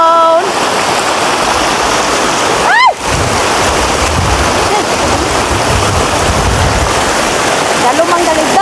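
Ubo Falls pours in a loud, continuous roar of splashing water close by, with people talking and calling out over the rushing cascade.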